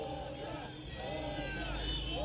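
Festival crowd noise at the Besame Mucho Festival: a dense, steady roar of many voices and cheering, fairly loud and continuous throughout, with a swell near the end.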